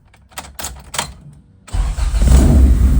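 A Honda B20 engine swapped into an EK Civic cranks over with a few rapid starter bursts, then fires and settles into a loud, close, rough idle.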